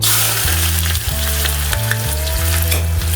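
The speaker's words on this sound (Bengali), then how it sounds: "পেঁয়াজটা ততক্ষণই ভাজতে হবে যতক্ষণ না এটা একদম ব্রাউন কালার হয়ে যাচ্ছে" Loud, steady sizzling of chopped onions frying in hot oil with bay leaf and whole spices such as mace, a dense continuous hiss with periodic stirring sounds and no voices.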